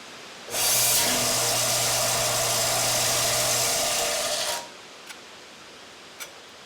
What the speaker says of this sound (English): I went to my little drum sander right here, and I thought this would do the trick.